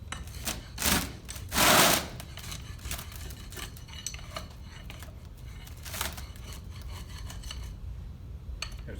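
A beveled straight edge scrapes material level with the top of a mold, giving a few short rasping strokes, the loudest two near the start, then softer scraping and faint handling noise close by.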